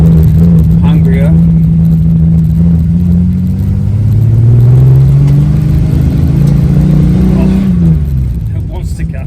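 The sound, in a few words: Holden Torana car engine running and revving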